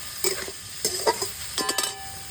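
Boiled soybeans fry in a little oil with salt in a pan, with a soft steady sizzle broken by several clinks and scraping stirs of a utensil against the pan.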